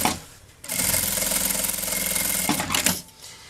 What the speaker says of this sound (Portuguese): coloco bem certinho com a beiradinha aqui do material e passo a costura